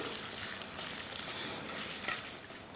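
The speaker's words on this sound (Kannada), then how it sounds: "ಇದಕ್ಕೆ ಒಂದು ಈರುಳ್ಳಿಯನ್ನು ಹಾಕ್ತೀನಿ" Onion frying in a pan for country chicken curry, a dense continuous sizzle that stays even and close throughout, with no speech.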